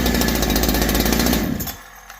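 A Holzfforma G372 chainsaw with a failed crankshaft seal fires up and runs with a loud, rough, rapid engine rattle for a moment, then drops away into quiet.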